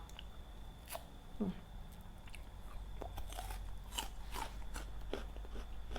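Someone bites into crunchy fresh yellow date fruits from a date orchard, giving close, sharp crisp crunches and chewing clicks scattered through the moment, with faint background noise.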